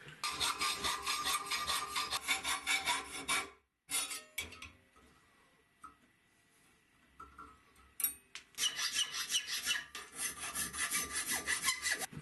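Hand filing on a metal trigger guard blank being shaped after hacksaw and grinder work, steady rasping strokes in two long runs separated by a quieter pause with light taps, close and fairly faint.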